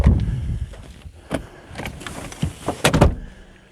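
Second-row seats in a 2024 Toyota Land Cruiser 250 fold down, producing a series of close clunks, latch clicks and thuds spread irregularly through a quiet interior.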